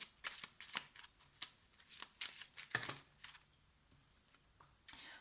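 Tarot cards shuffled and drawn close by, a run of quick crisp riffling flicks and slaps that ends in a brief pause and a final snap, fairly soft and with no talking.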